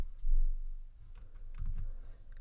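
Someone types on a computer keyboard into a text editor. Scattered soft clicks and short bursts of keystrokes sit over a low background hum, fairly close, with no speech.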